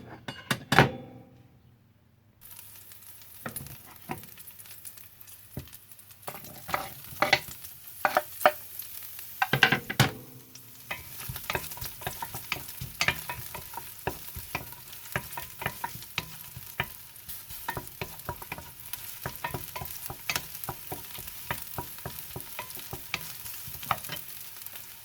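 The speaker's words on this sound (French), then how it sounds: "Quand de l'ail commence à cuire, je vais mettre l'échalote dedans." Garlic and shallots frying in hot oil for a Vietnamese spicy beef noodle soup, bun bo Hue, with a steady close sizzle broken by repeated stirring scrapes and clacks of a utensil against the pan.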